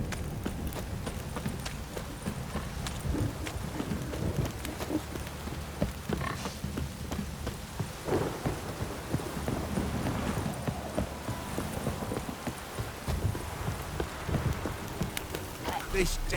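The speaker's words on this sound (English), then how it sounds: "This downpour's a bastard, it is." Steady rain pours down in the Witcher 3 video game, a constant wet hiss mixed with hooves clip-clopping along, while voices talk intermittently over it.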